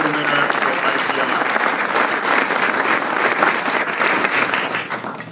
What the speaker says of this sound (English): I'd like to have a round of applause for the San Francisco Runway Area A